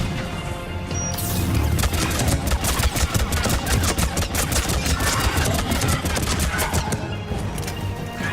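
Cryo-ammo gunfire in Mass Effect 3, rapid dense bursts of loud crackling shots and impacts sustained throughout, with brief pauses and no clear talk.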